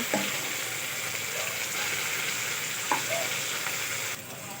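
Chili and mustard greens (saag) fry in a hot pan for sarson ka saag, a steady close sizzle with a few soft stirring scrapes and clinks, no voices.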